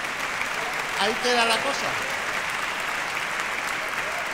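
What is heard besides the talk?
audience applause at a concert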